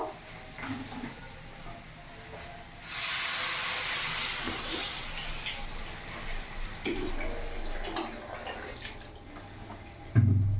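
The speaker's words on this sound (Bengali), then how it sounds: "ভালো করে কষানো হয়ে গেছে, এবার আমি জল দিয়ে দেবো।" Water poured into a hot, well-fried fish and yam curry, setting off a loud, sustained hiss and steam that swells suddenly and carries on for several seconds before settling, with a few utensil knocks around it.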